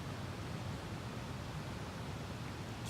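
A waterfall at a mountain campsite at Hunt Fish Falls in North Carolina gives a soft, steady rushing hiss like white noise, faint and unchanging, with no voices.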